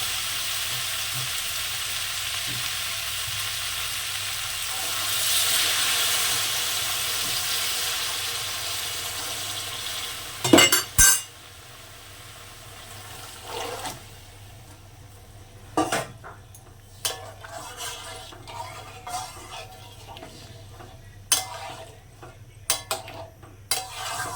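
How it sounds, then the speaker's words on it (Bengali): Boiled peas tipped into potato and chicken ghugni with chui jhal, then stirred in a sizzling pan; steady frying hiss with a few sharp clanks and scrapes of a utensil against the pan, no talking. "এবার আমি এখানে সেদ্ধ করে রাখা মটরশুঁটিটা দিয়ে দেবেন"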